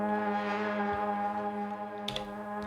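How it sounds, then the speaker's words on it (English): A ghostly, evolving lead pad synth from an Elektron Digitakt's melodic track 6 holds a rich sustained harmonic drone, swelling gently, with a faint brighter flicker near the end, alone without talk. "Track 6 is more like a ghostly evolving lead pad sound"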